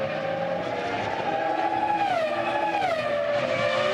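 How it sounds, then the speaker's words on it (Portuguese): Formula 1 cars at the 2004 Bahrain Grand Prix scream past in a continuous high-pitched engine whine, pitch sliding as they overtake, loud and steady with no talk. "Enquanto isso, o Trulli já faz a ultrapassagem"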